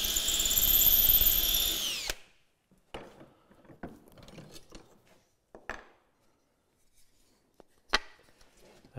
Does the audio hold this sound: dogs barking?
no